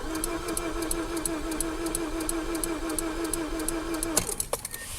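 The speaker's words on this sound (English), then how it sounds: "that is the first time that I've heard it crank" A Mazda 6 with a no-crank, no-start fault turns over, a steady mechanical whir with a regular ticking pulse running for about four seconds before breaking off abruptly into a few louder clunks.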